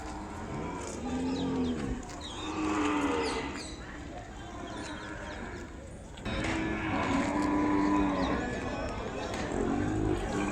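Calves and cattle moo repeatedly at the Kodada bull market in Telangana, several drawn-out calls rising over a busy background, with faint birds and occasional voices nearby.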